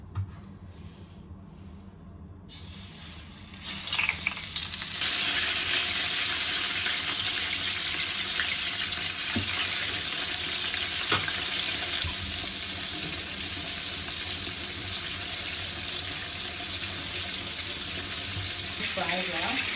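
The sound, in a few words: fillet frying in hot oil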